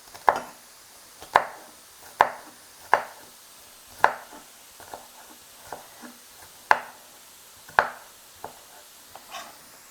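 A knife chops green peppers into small pieces on a cutting board, giving a run of about a dozen crisp, separate thuds at an uneven rhythm, close and clear, with no talk.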